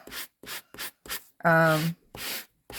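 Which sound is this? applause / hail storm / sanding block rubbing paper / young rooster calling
sanding block rubbing paper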